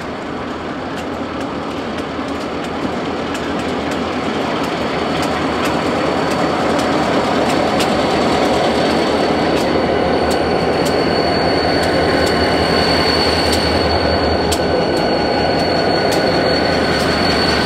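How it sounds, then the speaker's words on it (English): A Chicago, Fort Wayne & Eastern freight train led by three four-axle EMD locomotives, a GP38-2 in front, rolls past in a steady loud roar of wheels and rail noise, with high wheel squeals ringing intermittently throughout. "Three 4-axle EMDs are in charge of the train today."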